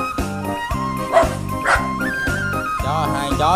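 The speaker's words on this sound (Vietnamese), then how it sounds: "cho hai chó cắn luôn nè." Dogs bark in a rural Mekong Delta setting, with a few loud yips and barks rising over a steady, rhythmic background of music-like tones, no talk heard.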